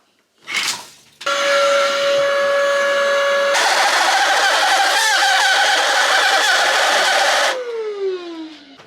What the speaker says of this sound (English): I think we have a vacuum cleaner situation.